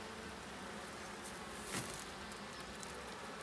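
Honey bees buzz around an open hive during an April inspection. A continuous, even drone of many insects fills the whole stretch, fairly faint, with one slightly louder pass near the middle and no voices.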